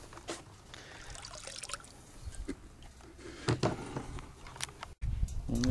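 Water trickles and gurgles into a submerged fish box basket, with faint splashes and drips, fairly quiet and close, alone without talk.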